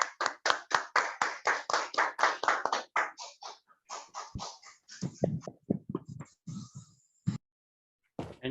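Clapping during a church Zoom meeting to welcome a bishop: a run of sharp, rhythmic claps close to the microphone, then scattered, uneven claps and hand taps with gaps of near silence.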